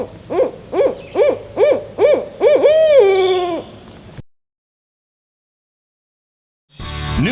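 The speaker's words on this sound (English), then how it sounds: "dueling barred owls in the cypress swamp" Barred owls in a cypress swamp give a loud, close rhythmic series of about six hoots that ends in a drawn-out descending call. A pause follows, then a brief burst of other sound.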